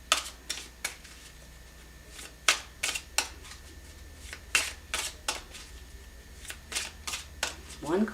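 Tarot cards shuffled and drawn at a table, sharp snapping flicks and riffles in irregular bursts over a low steady hum.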